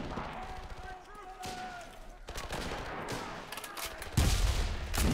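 Heavy gunfire and a grenade blast in the WWII shooter Enlisted, British forces against Axis in North Africa. A dense fusillade of shots runs throughout, and a loud broadband explosion hits about four seconds in, with a voice talking underneath.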